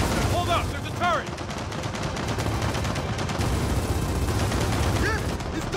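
Rapid bursts of turret gunfire crackle in an Xbox One X shooter, dense repeated shots layered over the battle din, with voices talking over the action.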